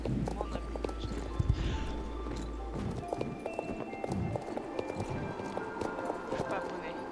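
Horse hooves clip-clopping in the Star Stable Online video game, steady repeated hoofbeats running throughout, with people talking over them.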